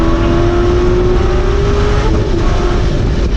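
A Ford Mustang GT accelerates hard on a race track with a loud, steady engine roar and rising drone, heard from inside the car, with no talking over it.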